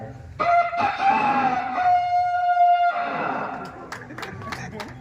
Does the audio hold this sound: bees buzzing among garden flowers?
no